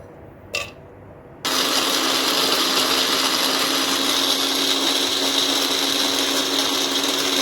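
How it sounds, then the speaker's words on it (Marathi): A mixer grinder grinds roasted rice with cumin and other spices into powder, starting abruptly after a brief click and then running as a loud, steady, high-pitched whirring drone until the end. "आणि जिरे पावडर एकत्र करून मिक्सरमधून आपल्याला पिसून घ्यायचे आहेत"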